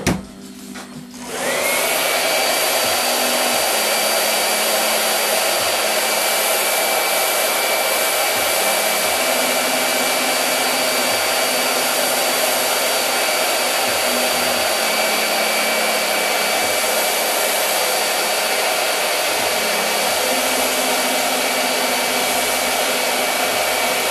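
A hair dryer dries airbrushed paint on a hat, switching on with a short rise and then blowing loudly and steadily for the rest of the stretch, alone with no talk.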